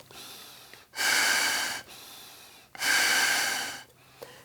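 Two long, loud breaths drawn in through the nose, each lasting about a second with a short pause between them, close and clear with no talking.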